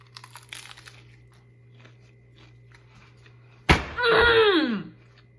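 A bite into a crunchy nacho-cheese taco shell filled with lettuce, sour cream and taco sauce comes as a sharp crack followed by about a second of loud close crunching, after quieter rustling and small mouth sounds.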